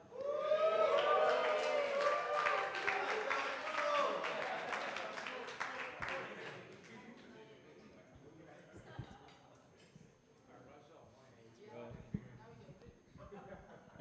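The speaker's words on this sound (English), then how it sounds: "keep the applause going" Wedding guests at a beach venue in Phuket break into loud, sustained applause and cheering for several seconds, then the clapping thins out and fades into scattered claps, shuffling and murmuring voices.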